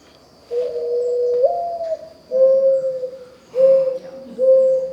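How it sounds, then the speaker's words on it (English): A mourning dove cooing up close, several long, soft, hollow notes in a slow sequence with brief pauses between them. "it's a very mournful cooing sound. Mourning dove."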